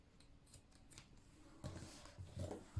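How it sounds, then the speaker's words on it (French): Scissors snipping crochet yarn from a boho crochet bag, a few quiet close cuts with a small handling rustle, faint and brief. "Je coupe le fil."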